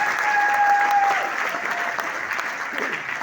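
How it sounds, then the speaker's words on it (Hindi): An audience at a stage achievers' event bursts into loud, sustained applause, a thick wash of many hands clapping. A thin whistle-like tone rings briefly at the start. "जोरदार तालियां आपके बीच में।"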